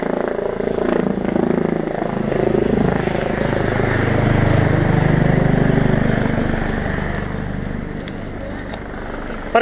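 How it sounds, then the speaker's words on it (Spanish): Helicopter flying over a mountain during the Hiru Haundiak 2023 event, a loud, sustained whirring rotor drone that swells as it passes near and then eases slightly, with faint voices around. "Ahí viene el helicóptero a buscar a alguien."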